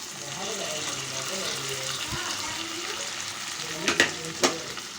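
Stuffed brinjal curry sizzles steadily in a pan over low heat while a spoon stirs it, with a few sharper scrapes and clatters near the end.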